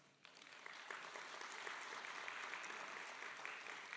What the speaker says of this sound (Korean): 따뜻한 격려의 박수를 보내드립니다